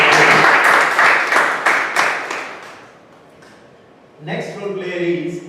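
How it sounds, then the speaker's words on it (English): An audience at a Toastmasters club meeting gives a loud burst of clapping that fades out over a few seconds, then a voice starts speaking. "A big round of applause for that."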